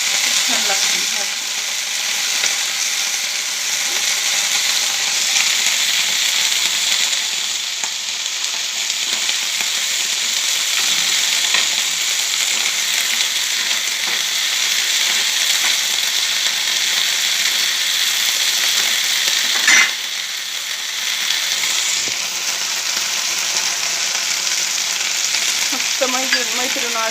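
Cluster beans (gavar) roasting in a pan, a steady close sizzle and crackle that runs without a break, with occasional scraping from stirring.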